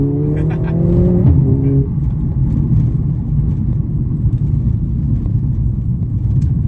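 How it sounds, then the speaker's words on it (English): Steady low road rumble and tyre noise fill the cabin of a 2023 Mercedes-Benz A45s AMG while it drives on pavement. The engine hum stays constant, and someone talks briefly at the start. "I'm sorry about the road noise."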